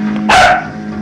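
A single sharp dog bark rings out close and loud over a low steady hum, brief and alone.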